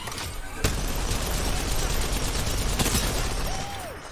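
Rampart's Sheila minigun in Apex Legends fires as a steady, dense stream of rapid rounds for several seconds, loud and continuous, opening with a sharp burst and tailing off near the end.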